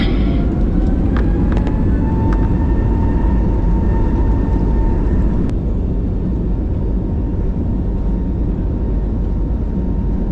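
An airplane rolls down a runway at an airport bordered by residential areas, its engine a steady, loud broadband roar with a whining tone that drops away midway, heard alone without talk.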